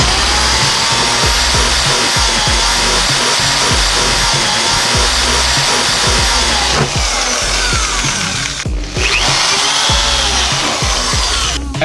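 A power drill boring a hole in a car's body for a zip tie while a Rally Armor mudflap is installed, with a loud, steady whine and small pitch shifts, a brief dip near the end, and no talking.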